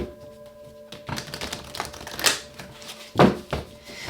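Tarot cards being shuffled in a deck, giving several bursts of crisp riffling and soft slaps up close, with quiet gaps between them and no talking.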